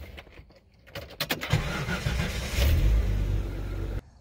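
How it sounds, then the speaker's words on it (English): A Jeep 4.0 engine cranks briefly, catches, and settles into a steady, loud running rumble that continues until cut off near the end. "crank on the engine, it starts up just fine, and it runs normal"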